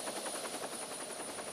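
Helicopter rotor noise during a mountain search and rescue, a steady rhythmic chop heard from a distance, moderately faint and continuous with no talk.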